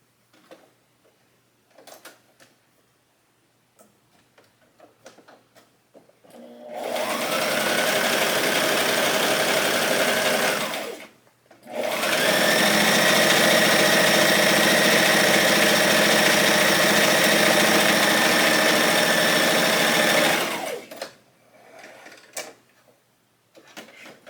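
A sewing machine runs gathering stitches along the bottom of a bishop sleeve in two long, steady, loud whirring passes separated by a brief pause, with quieter handling sounds before and after.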